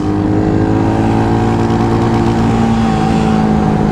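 A Royal Enfield Hunter 350 and a Yamaha MT-15 accelerate hard in second gear during a drag race, a loud, close, continuous engine roar with tones that climb steadily as they gain speed.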